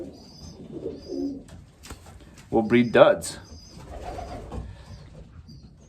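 An imported racing pigeon coos in soft, low throaty bursts, near and fairly quiet, with someone talking over and between the calls.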